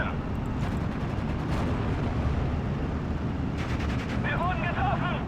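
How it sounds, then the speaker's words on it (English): Heavy machine gun fire in a military video game, dense continuous rattling with booming low rumble throughout, mixed with radio-style voices. "heavy machine gun."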